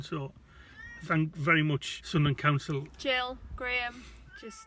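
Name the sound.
pet cat meowing to be fed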